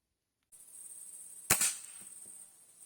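A single sharp 4.5mm air rifle pellet shot cracks out over a steady high-pitched hiss, followed by a brief rattle and quiet ticks.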